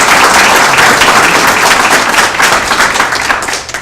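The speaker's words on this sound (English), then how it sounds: "if I could ask for your applause for MediaCom," Applause from a museum event audience, dense steady clapping filling the whole stretch, close and loud, easing slightly toward the end.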